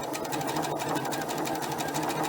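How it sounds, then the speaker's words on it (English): A sewing machine rapidly stitches two quilt fabric units for quarter square triangle blocks with a 1/4 inch seam, a fast steady mechanical whir with a regular needle patter, close and alone. "So I'm going to stitch these 2 units real fast here."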